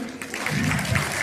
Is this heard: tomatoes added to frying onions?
no